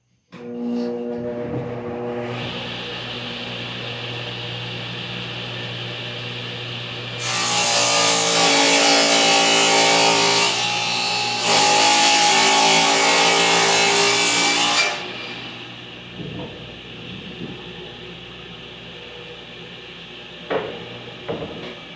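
A circular saw is cutting a wood panel for a bookcase cabinet: a steady motor whine with harmonic hum, then a loud broadband rasp of the blade through the wood for several seconds, before the blade winds down into quieter clicks.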